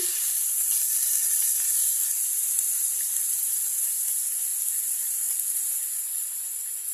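Chicken pieces hit a pan of hot oil with garlic and onion, giving a steady, bright sizzle and hiss that holds evenly throughout with no voices.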